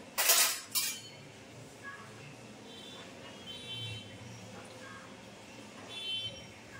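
Steel and iron utensils and a few dishes being handled: two loud clinks at the start, then faint, sparse clatter over quiet room noise.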